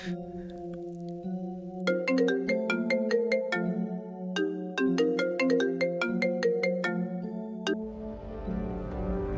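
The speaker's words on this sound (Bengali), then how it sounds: "রিং হচ্ছে, রিং হচ্ছে।" A phone ringtone plays a repeating electronic melody, clear and fairly close, pausing briefly between phrases before stopping.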